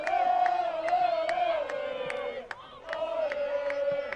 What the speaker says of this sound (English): the crowd is on their feet, cheering the Crusaders on